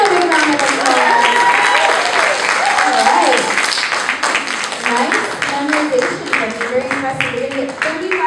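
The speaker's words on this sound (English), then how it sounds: "Give another round of applause." A school audience at an American Revolution walk-through event claps, with dense, fairly close applause mixed with chatter and cheering voices throughout.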